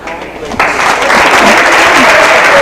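Gym crowd at a high school girls' basketball sub-state final breaks into sustained applause for an injured player during an injury timeout, swelling after a quiet start and holding steady and loud.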